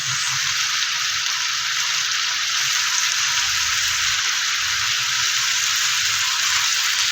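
Onions frying in oil in a pan for a Filipino chopsuey vegetable stir-fry, a loud, even, continuous sizzle close up, with only faint low rumbles underneath.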